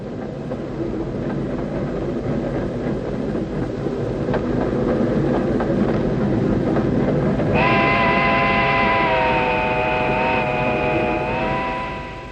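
A train rumbles steadily along the tracks with rhythmic clatter, then a loud, sustained horn blares close by near the end.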